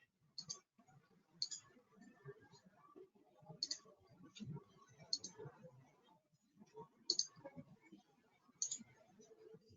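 Computer mouse clicks come in small clustered bursts at a steady pace, close and quiet, with faint low handling noise in between while structural design software is operated.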